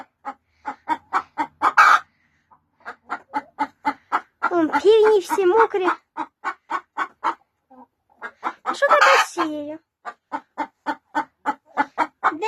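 Chickens, including a broody hen, cluck in steady rhythmic bursts, close by, with a rooster-like call breaking in twice and someone speaking briefly in Ukrainian between them.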